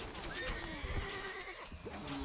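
A horse neighs in the Stronghold: Crusader video game, a faint rising then falling whinny heard among game sounds and a low murmur of background voices.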